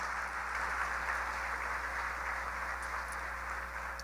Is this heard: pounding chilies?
no